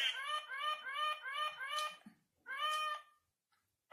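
A cat meows in a few drawn-out, wavering calls: a run of close, clear meows, then a short gap and one more call before silence.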